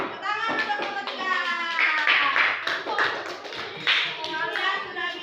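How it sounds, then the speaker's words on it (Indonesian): Elementary schoolchildren in a combined grade 3 and 4 classroom clap their hands for a group, with rhythmic claps under loud overlapping children's voices chanting and calling out nearby. "tepuk tangan untuk kelompok 3."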